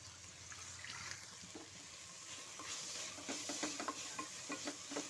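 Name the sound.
onions being stirred and sautéed with salt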